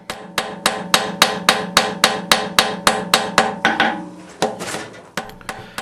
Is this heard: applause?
no